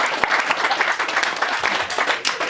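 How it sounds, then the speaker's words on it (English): An audience at a hypnotist show applauds steadily, a dense wash of many hands clapping at once, loud and continuous throughout. "Give Jill a big round of applause"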